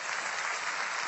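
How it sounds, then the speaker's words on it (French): An audience claps for a comedy performer on stage, a dense, even burst of applause filling the short moment at moderate distance. "Merci, on peut l'applaudir"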